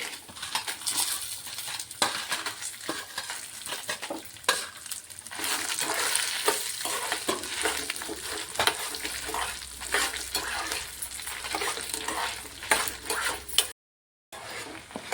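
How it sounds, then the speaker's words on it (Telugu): Dry red chillies frying in oil over a low flame, with cumin, for coconut chutney: a steady close sizzle with occasional stirring scrapes and utensil clinks, running continuously until a brief drop-out near the end. "వేగిన తర్వాత మనము కారానికి సరిపడు ఎండుమిర్చి వేసుకోవాలండి"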